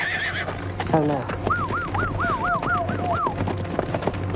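Horse neighing with a loud, wavering whinny, plus scattered hoof clops nearby, mixed with a man's brief speech and background sound effects.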